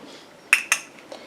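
A utensil clinks twice against a container while urea is stirred into a water phase for a homemade conditioner, two crisp close taps and then a faint third.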